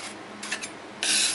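Freeze-dried maple sugar made from maple tree sap is scraped off a freeze dryer tray, giving short dry rasping strokes that end in a louder, sustained scrape close by.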